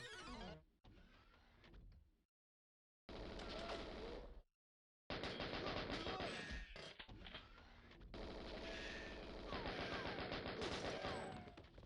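Chain gun firing in a GoldenEye video game mod, rapid rattling bursts broken by short silent gaps, then a longer sustained stretch of fast repeated fire.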